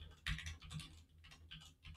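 Quick bursts of typing on a computer keyboard, close and clear, clustered clicks arriving in uneven groups with short pauses, no talking over them.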